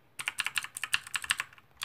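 Fast typing on a Shijing Red gaming mechanical keyboard with a metal body, crisp clicky keystrokes in quick irregular bursts, close and distinct with no talking.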